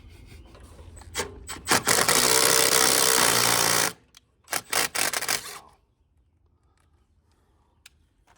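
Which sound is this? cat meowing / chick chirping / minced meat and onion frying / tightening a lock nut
tightening a lock nut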